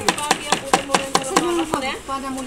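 A knife chops food into long, thin slices on a board, about eight sharp evenly spaced strokes close up, with a faint tone and some kitchen clatter toward the end.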